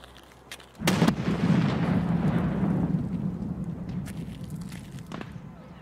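A sudden loud blast of gunfire in the video game Escape from Tarkov opens into a long rumbling roar that slowly fades, with a few sharper cracks scattered through the tail.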